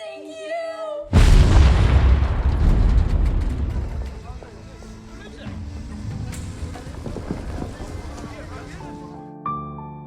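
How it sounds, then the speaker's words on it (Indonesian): A large explosion goes off near a residential area: a sudden, loud broadband blast about a second in, followed by a long rumbling decay with scattered debris-like clatter, then a brief tonal sound near the end. "Tiba-tiba, ledakan besar mengguncang dekat dengan pemukiman mereka."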